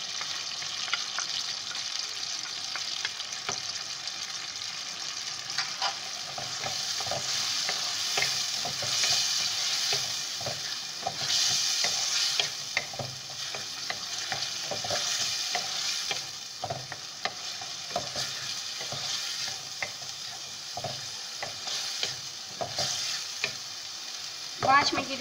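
Onions fry in a pan, a continuous close sizzle with frequent scraping and tapping strokes of a spoon as they are stirred and browned over many seconds, with no talking.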